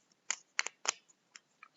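Board game tiles being shuffled face down on a table during a solo game of Escape Plan, heard as a few short, close clacking and sliding bursts separated by brief pauses, quiet overall.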